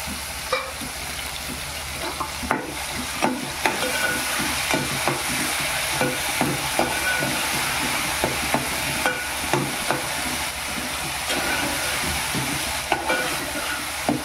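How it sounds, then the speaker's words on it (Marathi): Ginger-garlic paste frying and being stirred in a pan, a steady close sizzle broken by regular scraping strokes of the spoon against the pan, with no talking. "आलं लसणाची पेस्ट जरा शिजली पाहिजे."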